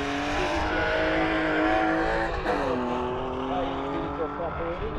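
A BMW car at a 2013 drag race in Daugavpils, its engine droning and shifting pitch as it revs and pulls away, with an announcer talking over it throughout.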